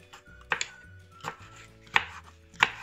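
A knife chops through vegetables on a cutting board while slicing them for pickles, four sharp, separate cuts spaced unevenly over a quiet kitchen background.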